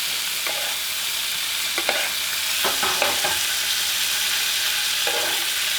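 Ling fish frying in butter in a pan, a constant close sizzle with a few scraping stirs and clatters scattered through, steady and fairly loud, no talking.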